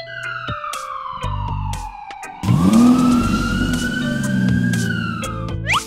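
Ambulance siren from the video game Rainbow Friends 2, a loud wailing tone sweeping down then rising again across several seconds, with game noises and rumble underneath.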